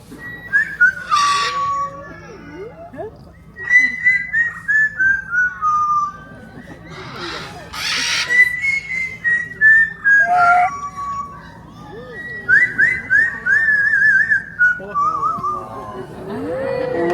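A bird whistles a wandering tune up close at a safari park in Canada: several gliding, rising-and-falling phrases separated by short pauses, with a few harsher squawky bursts between them.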